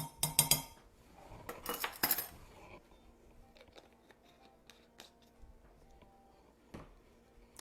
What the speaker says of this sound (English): Now you just give that a little stir.